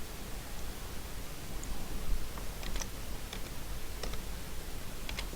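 Sparse light clicks from keys on a computer keyboard tap irregularly over a steady background hiss, faint and close, a few scattered keystrokes rather than rapid typing.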